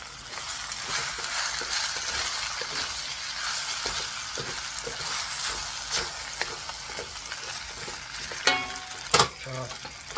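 Beef chow fun stir-frying in a wok over a butane stove, a dense continuous sizzle with rhythmic tossing and folding scrapes, ending with a couple of sharper metallic clanks.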